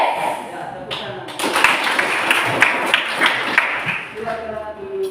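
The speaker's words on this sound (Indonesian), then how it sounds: "Ya, tepuk tangan." Students in a junior high maths classroom applaud together, a dense burst of clapping from about one to four seconds, with a voice talking before and after.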